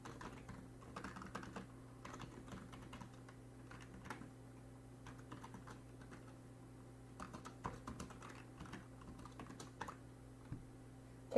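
Computer keyboard typing code during a plugin development session, with quiet, irregular clusters of key clicks over a low steady hum from nearby electronics.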